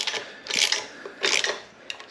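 A ratchet wrench snugs up bolts during a Kubota B2601 tractor build, making two short bursts of quick clicking close by with a brief tick at the end, no talking.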